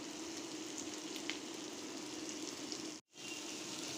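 Onions sizzle and fry steadily in hot oil for rohu fish dopeyaza, a dense even crackle that runs unbroken, cuts out briefly near the end, then resumes.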